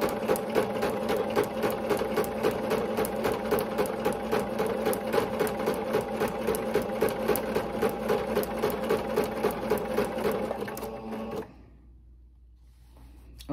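A sewing machine stitches ribbon onto tutu socks in a fast, even clatter of needle strokes up close, then stops abruptly near the end, leaving a quiet room.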